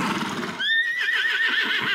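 A stallion neighs loudly and close, a rising whinny that trembles on for over a second after a quiet, muffled start.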